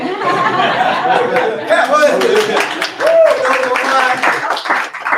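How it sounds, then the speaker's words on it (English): An audience at a talk claps loudly and continuously for several seconds, mixed with chuckles, laughter and murmured chatter from the crowd. "Thank you for clapping."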